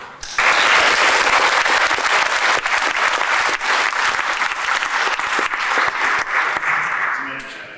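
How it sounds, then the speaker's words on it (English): A crowd at an Eagle Scout ceremony breaks into a round of applause, loud and full clapping that holds steady for several seconds before fading, with some voices underneath. "A round of applause."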